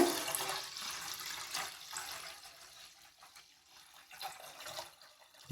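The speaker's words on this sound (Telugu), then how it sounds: "రెండు మూడు సార్లు కడిగేసుకొని నీట్గా అయితే కడిగేసి నానబెట్టుకోవాలి కదండి" Ration rice is swished and rinsed in water in a vessel, giving soft sloshing and splashing that rises and falls, close and moderately quiet with no one speaking.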